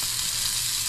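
Scallops frying in a hot pan, a steady close hiss of sizzling oil with no breaks and no voices.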